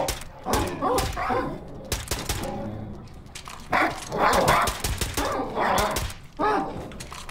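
A dog in the video game Wolfenstein II: The New Colossus, set in Manhattan, growls and barks in several loud, close bursts separated by brief pauses, with harsh combat noise mixed in.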